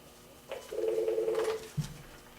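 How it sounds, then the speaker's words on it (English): A telephone being dialed in a county commission meeting room: a sustained steady tone lasting about a second, followed by a short lower blip, heard alone at moderate level against faint room noise. "we thought we'd get Susan on the phone"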